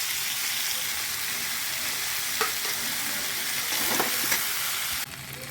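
Ground spices (chilli, cumin and ginger powder) with green chillies frying in a pan, a steady hiss with occasional stirring scrapes and clinks, close, no voices, ending in a lower quieter sizzle.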